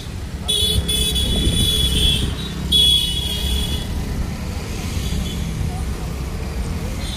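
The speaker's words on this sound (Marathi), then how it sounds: "आणि ट्रॅफिक वाढले बघा" Road traffic near Khadakwasla Dam: a steady rumble of passing cars and buses, with a few car horns honking in the first few seconds. The traffic stays close and continuous, and voices may be faintly mixed into it.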